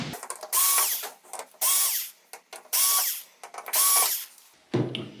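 Screws being driven out of a circuit board on a Samsung UN60FH6003 television with a power screwdriver, four separate whirring bursts of about half a second each, close and fairly loud, with small clicks between them.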